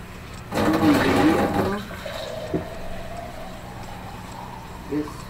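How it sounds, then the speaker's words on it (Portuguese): Water gushes loudly into a cooking pot for about a second, then settles into a thinner trickling pour with a few small clunks and drips, close by and without talk. "Aqui eu já botei 2 litros, vou botar 2 litros de água."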